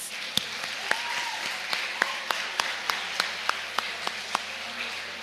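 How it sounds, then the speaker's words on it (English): Applause from a reunion crowd of a school class, a soft bed of clapping punctuated by sharp distinct claps at a fairly regular pace, with faint voices mixed in. "Give us a round of applause for that."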